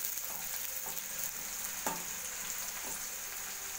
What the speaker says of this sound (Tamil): நல்லா அந்த வெங்காயம் வந்து பொன்னிறமாக வர வரைக்கும் நல்லா வணக்குங்க